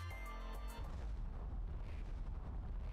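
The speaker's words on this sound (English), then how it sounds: "Boom! Explosion!" A deep rumbling blast booms in a video game, loud and close, then decays into a long, dense roar of debris and rumble that fills the rest of the moment without any voices.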